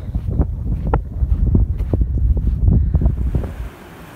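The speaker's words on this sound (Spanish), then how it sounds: "Ya se aprecia el rocío que llega hasta nosotros, porque el agua está subiendo." Wind-driven spray from a waterfall whose water rises from the abyss in the Andes of Chile, a loud, steady rushing wash with gusty buffeting on the microphone that drops away sharply near the end.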